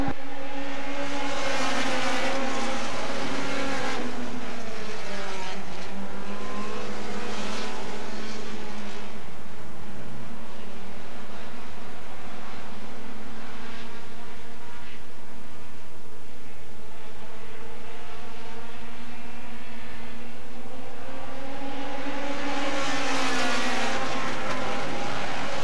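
Mini stock race cars roar around Smoky Mountain Speedway, engines rising and falling in pitch as they pass and brake into turns, a continuous loud racing drone with distant crowd ambience.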